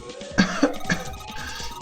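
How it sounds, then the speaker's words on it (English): Clover, a young woman in the video game 999, coughs hard in three quick, close, harsh bursts, then a faint rasp of breath trails off with no talking. "Damn, she's coughing so hard she can't even talk."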